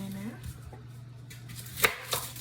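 A knife slicing through an onion on a cutting board, two distinct close chopping knocks near the end over a low background hum.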